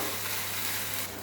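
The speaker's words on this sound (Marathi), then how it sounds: "ते सुद्धा तेलात चांगलं फ्राय करून घेऊया" Ground spice paste fries in hot oil in a pan for a Konkani-style soybean dish, giving a steady, fairly loud hiss and sizzle with no talk.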